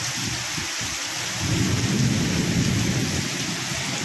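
Heavy rain pours down in a steady, loud wash, and a deep roll of thunder swells partway through and rumbles beneath the downpour.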